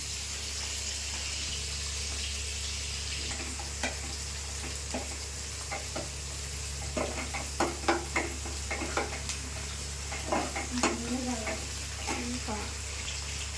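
Onions frying in a pan with ginger garlic paste added for paneer curry, a steady low sizzle broken by scattered scraping and stirring clicks.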